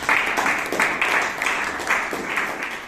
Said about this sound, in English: all the role takers and speakers who came on stage deserve a round of applause once again